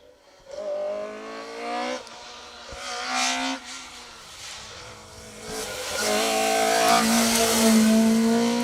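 A Vauxhall Nova rally car on an asphalt rally stage at Rally Ceredigion revs hard and passes by, its engine note rising and shifting through gears, growing louder toward the end.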